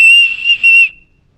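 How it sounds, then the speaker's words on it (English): A handmade whistle carved from an antler tip gives a clear, steady high tone held for about a second, briefly dipping mid-blow before trailing off, close and alone. "And I have a whistle from an antler tip that my daughter made."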